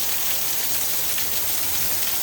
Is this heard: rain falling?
yes